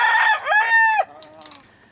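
A rooster crows once loudly and close, a long strained cock-a-doodle-doo that breaks off, followed by a few faint clucks from other birds near a coop.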